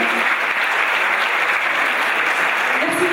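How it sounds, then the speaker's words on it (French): Steady, dense applause fills the room at a national dictation competition in Morocco, honoring the consul; loud and continuous throughout, with a faint voice rising briefly near the end. "applaudissez bien fort"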